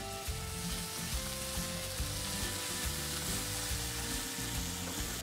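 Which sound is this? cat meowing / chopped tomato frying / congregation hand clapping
chopped tomato frying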